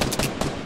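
Rapid automatic gunfire in the Fortnite video game, two loud bursts of quick shots in close succession, the second starting a moment after the first, with no talk.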